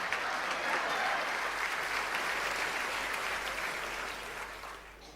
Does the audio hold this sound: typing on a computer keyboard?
no